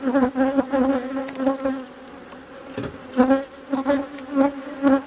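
A honey bee swarm being captured buzzes loudly and close in a dense, pulsing drone, with individual bees swelling and fading past the microphone and a brief lull in the middle.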